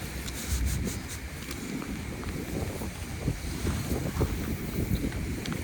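Wind gusting hard against the microphone while fishing by water, a continuous low roar with rumbling buffets, water faintly lapping underneath, no voices.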